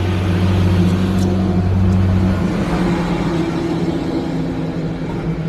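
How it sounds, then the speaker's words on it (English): A loud dump truck rolls past outdoors during a push lawnmower repair, its low engine drone and rumble strong and steady throughout, easing slightly toward the end with no talking. "here comes a nice loud dumper"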